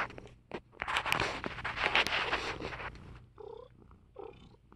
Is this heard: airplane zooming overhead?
no